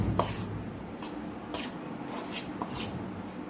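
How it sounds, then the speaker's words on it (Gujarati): A spoon scrapes and rubs through flour dough mixed with sugar, salt and ghee for sweet ghughra, giving soft repeated scraping strokes close by with no talk. "એટલે આપણે ચમચીથી મિક્સ કરશું"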